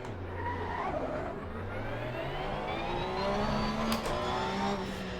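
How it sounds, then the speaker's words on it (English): A Porsche GT race car in the Assetto Corsa Competizione racing sim at Watkins Glen, its engine note rising steadily through the gears with shifts between, loud and continuous, tires faintly squealing, no talk. "we are in the Porsche at Watkins Glen"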